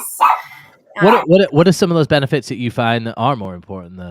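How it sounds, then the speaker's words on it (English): Dogs bark a few times during a call, in short sharp yips near the start, then are largely masked as a person talks continuously over them. "I'm so sorry the dogs are joining the call today."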